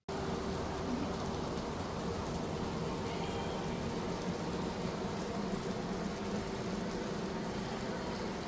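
Steady rain falls in Wayanad, Kerala, a constant even hiss of drops with a faint low rumble beneath, unbroken and moderately distant.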